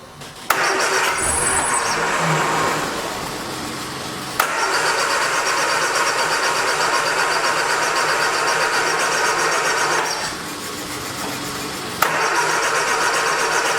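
A 1979 Triumph Spitfire engine cranks continuously without catching, a steady loud whirring churn broken by brief pauses and restarts of the starter at close range.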